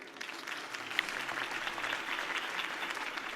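A crowd in a Batman video game claps and cheers steadily after a campaign speech, in a dense wash of applause that holds at an even level for a few seconds.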